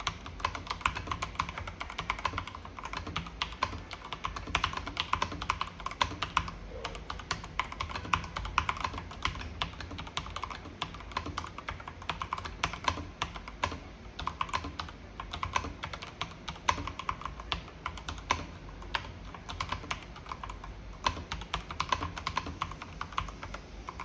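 Typing on an AKKO 3087SP mechanical keyboard fitted with linear switches produces a steady, rapid stream of soft clicks and clacks that continues throughout, close and fairly quiet, with no talking.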